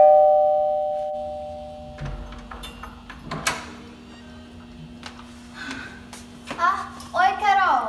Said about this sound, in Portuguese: Vou tocar a campainha.